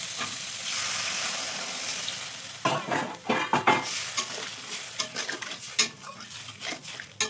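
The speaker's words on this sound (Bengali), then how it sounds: "এবার আমি চিংড়ি মাছগুলো ওই মশলার মধ্যে দিয়ে একটু কষে নিলাম।" Prawns are stirred through a spice masala with milk in a pan for a Bengali prawn malai curry, giving steady sizzling and then a run of scraping, clattering spoon strokes against the pan, close and fairly loud with no voices.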